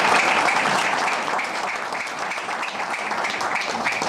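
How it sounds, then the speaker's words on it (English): Loud, sustained applause from a school board meeting audience honoring the class valedictorian and salutatorian, a dense continuous clapping throughout with no break. "who obviously deserve a big round of applause"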